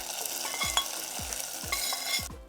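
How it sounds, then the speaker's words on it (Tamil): Grated coconut sautéing in ghee for mung dal payasam, a bright continuous sizzle with a spatula scraping the pan in a regular rhythm of about four strokes, close and alone, then cutting off abruptly near the end. "இந்த பக்குவத்துக்கு தேங்காய் பூ வதங்கியிருக்கணும்"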